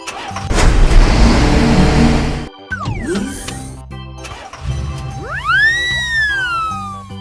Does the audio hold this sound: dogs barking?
no